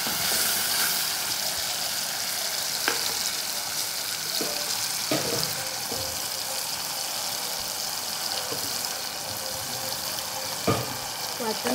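A green paste of chilli, ginger, garlic and coriander fries in a pan with a continuous bright sizzling hiss, broken by occasional light clicks and taps from stirring.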